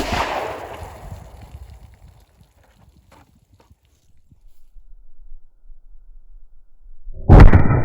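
A .40 S&W handgun fired with Hornady 165 grain Critical Defense ammunition into a denim-covered test target, heard as a decaying outdoor rumble, a near-silent pause, then one sharp, loud, close report near the end.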